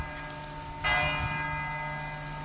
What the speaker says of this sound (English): And the bell tolls for us.